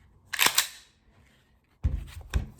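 Dry-fire clicks from an unloaded Glock 34 Gen5 pistol: a few sharp, close mechanical snaps in two short bursts, with no talking.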